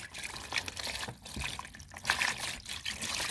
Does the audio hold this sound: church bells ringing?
no